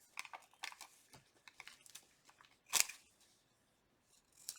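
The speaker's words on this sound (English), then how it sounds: "And then I'm gonna trim." Scissors snip through paper trimmings for a handmade journal, a series of short, crisp close cuts with quiet gaps, one sharper louder snip standing out near the middle.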